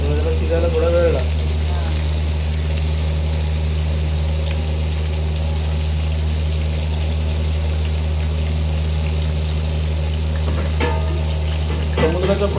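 Large bangda mackerel frying on a stove, a steady loud sizzle running throughout with a low constant hum underneath and brief clatters near the end, voices talking faintly over it.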